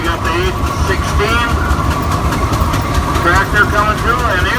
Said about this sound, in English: tractor coming through, and here we got 2069